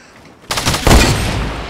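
Video game shootout gunfire hits close and loud, a sudden burst of shots followed by a heavier boom that rings out and slowly fades.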